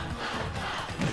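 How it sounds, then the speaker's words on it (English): An in-game crowd roars for Cloud during a competitive fighting-game match, a loud, dense wash of cheering that stays steady and swells slightly near the end. "We hear the in-game crowd cheering for Cloud"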